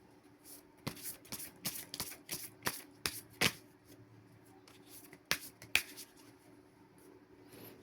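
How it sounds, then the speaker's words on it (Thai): Oracle cards are shuffled in soft, irregular bursts of riffling and flicking, quiet and close, with brief pauses between handfuls. "การเปิดไพ่เช็คพลังงานตัวตนก่อนนะคะในไพ่สำหรับเดิมเนาะ Energy and Spirit Oracle"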